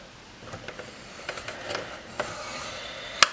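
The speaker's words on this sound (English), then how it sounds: "So let's start scoring this along the long side at 1/2 inch" Quiet, scratchy strokes from a scoring tool drawn along card stock for a folded gift box. Several light rasps are followed by a sharp click at the end.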